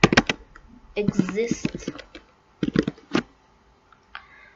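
Computer keyboard typing, a burst of quick key clicks with someone speaking over parts of it, close and moderately loud, fading to sparse taps near the end.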